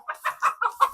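Chicken clucking in quick agitated bursts on a goat farm while it is chased and caught, six rapid close clucks with no talking.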